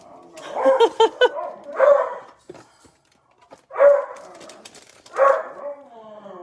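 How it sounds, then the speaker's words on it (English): Dogs bark in loud, close bursts, a quick run of yaps followed by several separate barks and yelps with brief pauses between. "I'm not even going to try to talk while the dogs are barking"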